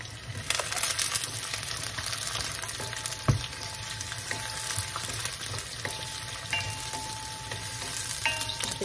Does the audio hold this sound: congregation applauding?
no